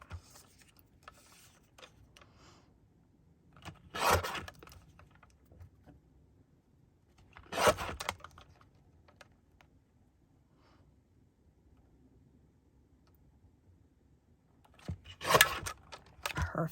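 Scissors trimming paper lace word-tags, three separate short crisp snips spaced several seconds apart, close and clear against a quiet background with faint handling noises between cuts.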